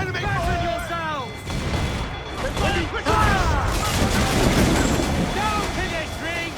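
Ship cannons fire in a naval battle in Assassin's Creed 4 Black Flag, with loud booming volleys and crashes under shouting crew voices.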